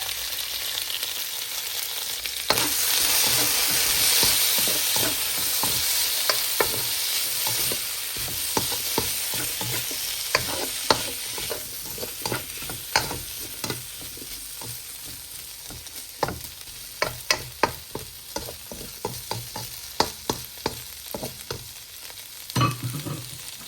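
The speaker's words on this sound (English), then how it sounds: "add my already cooked beef and mushrooms to the pan. I give it a bit of stir" Cooked beef and mushrooms stir-frying in an oily pan for rice noodles, a steady loud sizzle broken by frequent scraping, clacking stirs of a utensil against the pan, with no talking.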